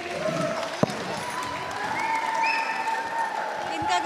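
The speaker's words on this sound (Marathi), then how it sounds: "एकदा जोरात टाळ्या वाजवा सगळ्यांसाठी" A school audience claps together during a Marathi language day event, a dense, steady burst of applause with a sharp clap near the start and faint voices and whistles mixed in.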